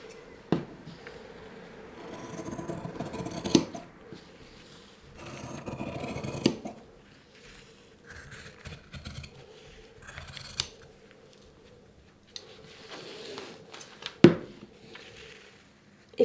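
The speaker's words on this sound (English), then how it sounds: "trying to drive the blade of the scissors to keep with that shape" Scissors cutting a fabric apron pattern, with bursts of rasping, crunching blade strokes and scattered clicks of the blades closing, separated by quieter pauses, close and without talk.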